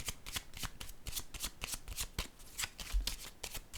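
A deck of oracle cards being riffled and shuffled by hand, a steady run of quick papery flutters and snaps repeating close by for several seconds, with no voice over it.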